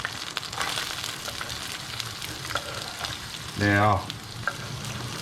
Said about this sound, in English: olive oil, just a drop or two. And to that I'm going to add about half a red onion that I've just chopped up.